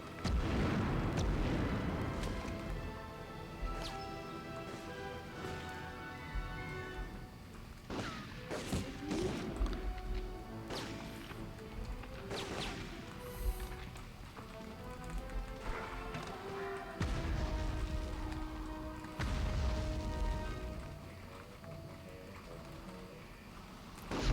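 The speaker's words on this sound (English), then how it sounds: "Please stop throwing grenades." Repeated deep booms and crashes of grenade explosions in the PS1 game Medal of Honor, mixed with dense battle noise and music-like tones, several blasts spaced throughout.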